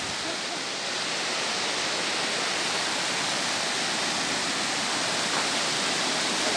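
Butakovsky waterfall roaring in a mountain forest, a steady, dense rush of falling water that stays loud and unbroken throughout with no voices.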